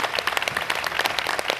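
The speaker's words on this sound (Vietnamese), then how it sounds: "Cho một tràng pháo tay 16 điểm" A studio audience at a televised singing contest breaks into dense, steady applause, many hands clapping together at close range and fairly loud, with no talk over it.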